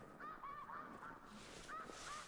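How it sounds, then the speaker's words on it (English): Wild geese honk repeatedly as they fly over outdoors, a chorus of overlapping calls at moderate distance with no talking. "we're hearing a lot of the geese going over"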